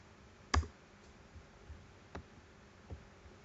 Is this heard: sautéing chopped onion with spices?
no